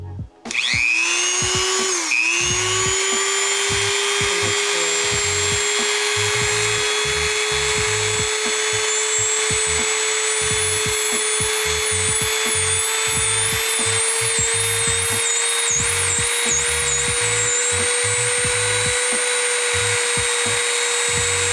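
A Dremel rotary tool whines at high speed on a resin dinosaur key chain, with one steady, close, continuous grinding tone that wavers slightly as it bites into the resin, with no speech.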